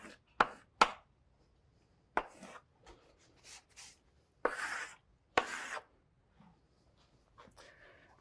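Chalk writing on a high-friction blackboard in a university lecture hall, sharp clacks and scratchy strokes in separate bursts of a half-second or so, close and fairly loud with quiet gaps between them.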